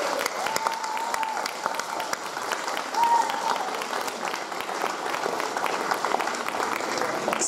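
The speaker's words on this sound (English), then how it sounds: "Let's give him another round of applause." A school hall audience at a Nigerian community performance applauds a dancer with steady, dense clapping that holds at an even level throughout, with a few faint voices mixed in.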